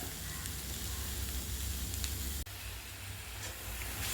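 Onions and tomatoes fry in a pan for a Kerala egg roast, giving a steady close sizzle with faint hiss and a brief scrape partway through.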